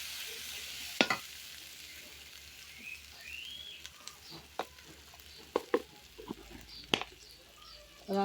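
Spiced meat sautéing in a pot with turmeric and chili powder, a soft steady sizzle broken by sharp scrapes and clanks of a spoon stirring, with faint bird calls in the background.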